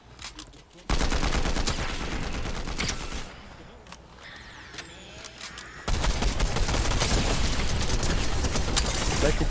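Rapid gunfire bursts in the video game Fortnite, dense crackling volleys that pause briefly before another loud barrage erupts, with faint voices beneath.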